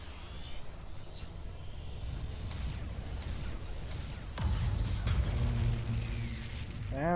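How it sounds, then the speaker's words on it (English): Nova Cannon salvos from warships in the space strategy game Battlefleet Gothic Armada II, heard as heavy booming blasts under a continuous rumble, with a stronger surge of low thunderous energy in the latter half. "Got 3 Nova Cannons sent down range."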